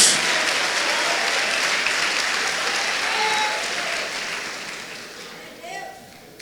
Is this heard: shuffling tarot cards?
no